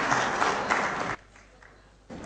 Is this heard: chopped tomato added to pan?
no